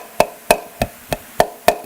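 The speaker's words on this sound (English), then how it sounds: "You hear the sound of the plastic." Six sharp, evenly spaced taps on a plastic cell culture dish: hard, close clicks with short decays, alone and without speech.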